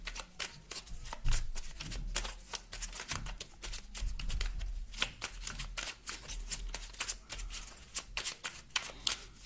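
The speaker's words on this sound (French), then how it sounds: "Je vais vous tirer une carte du petit oracle du druide." Oracle cards being shuffled by hand before one is drawn, with quick papery riffles and flicks in uneven bursts, close and soft, with no talk over them.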